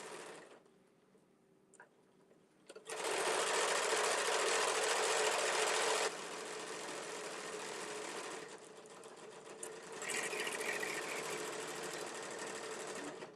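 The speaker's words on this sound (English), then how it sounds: "I'm just going to run a straight stitch" A sewing machine runs a straight stitch down a length of fabric, starting after a short pause and then whirring steadily and loudly, with its speed shifting partway through, no talking.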